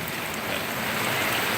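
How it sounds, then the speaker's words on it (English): Heavy rain pours down at the Cedar Point amusement park, a soft, steady hiss of water hitting the ground with no break, heard alone and fairly faint. "what do you do when it's raining so hard?"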